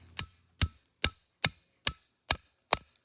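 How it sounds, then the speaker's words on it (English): A trap hammer drives a trap anchor into soft ground in seven sharp, evenly spaced blows, each a close, punchy thud with a quick decay, and no voices. "just to set your anchor into the ground. So you hold that tight, pick your place where you want. Take your trap hammer,"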